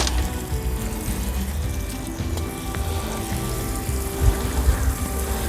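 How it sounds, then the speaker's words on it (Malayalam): Water is poured over a freshly planted black pepper vine cutting, a continuous close splashing trickle with small bubbling surges and no speech. "വെള്ളം ഒഴിച്ചു കൊടുക്കുമ്പോൾ ഇതിൻ്റെ ടോപ്പ് മുതൽ താഴെ ചെല്ലത്തക്ക രീതിയിൽ വെള്ളമാണ് ഒഴിക്കേണ്ടത്"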